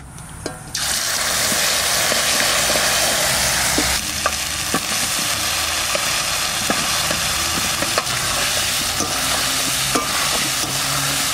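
Chili and cumin paste frying in a pan for a Bhola fish curry, a steady loud sizzle with stirring scrapes and small pops throughout, starting with a quick surge as the paste hits the hot oil.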